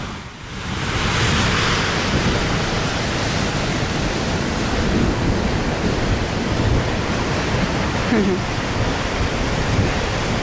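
The Paine River rushes near the Salto Grande waterfall in Torres del Paine, a loud, dense roar of churning water that swells within the first second and holds steady, with a little wind buffeting the microphone.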